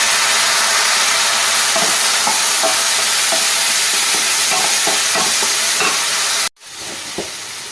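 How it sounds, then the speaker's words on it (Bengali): Spice paste cooked with salt, sugar and a little water for a cabbage dish sizzles and hisses steadily in a pan, with scattered scraping stirs, before cutting off abruptly into quiet with one last faint clink. "দেব লবণ, দেব চিনি আর দেব সামান্য জল দিয়ে মশলাটা আমি ভালো করে কষবো"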